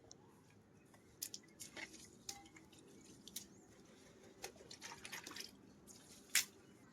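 Water poured by hand onto house-building bricks in a village drips and splashes in scattered small taps, faint and irregular, with a louder drop near the end.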